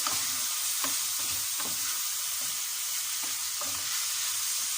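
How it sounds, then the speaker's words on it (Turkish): Green peppers sizzle steadily as they sauté in a hot pan, a constant bright hiss with occasional soft stirring knocks. "Önce şöyle bir soteliyorum."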